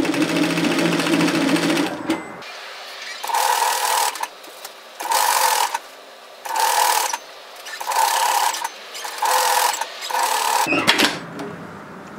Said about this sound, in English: Just makes it really easy to attach it with my serger to the garment later